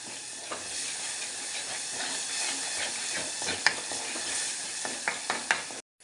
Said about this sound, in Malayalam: ഇതൊന്ന് നമുക്കൊരു അഞ്ച് മിനിറ്റ് ഇങ്ങനെ നന്നായിട്ട് വഴറ്റി കൊടുക്കാം